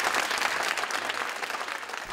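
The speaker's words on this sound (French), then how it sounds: "vous pouvez les applaudir" An audience claps for performers arriving on stage, a dense steady wash of applause close by with no talk over it.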